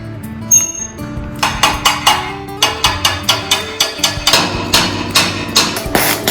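A hammer drives an expansion-type anchor bolt into a drilled hole in concrete to fix the foot of a welded steel staircase. Steady, close metallic strikes ring out about three times a second with clinking overtones, and no one speaks.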